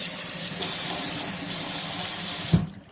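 A kitchen tap running hot water into a sink while making ham and bean soup, a steady close splashing stream that cuts off abruptly near the end, with no talk over it.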